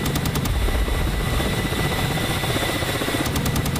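A ground attack helicopter in the combat flight simulator DCS flies by with a loud, steady rotor and engine roar. Rhythmic blade thumps stand out at the start and end.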